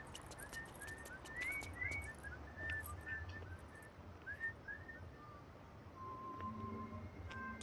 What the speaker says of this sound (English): You'll be hearing that tune that he just whistled a lot